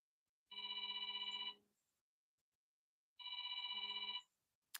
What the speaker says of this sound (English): Let me know if you can hear my phone ringing in the background.